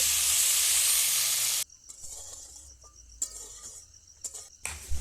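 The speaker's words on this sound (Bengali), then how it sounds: "প্রথমে আলুগুলো ভেজে নেব" Potatoes frying in oil make a loud, dense hiss that stops abruptly, followed by quieter scattered crackles and occasional clatters near the pan, with no speech.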